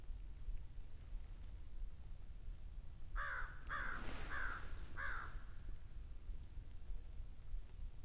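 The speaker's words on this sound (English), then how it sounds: "Heard that crow" A crow caws four times in quick succession in cold woods, moderately distant, set against a steady low background hiss.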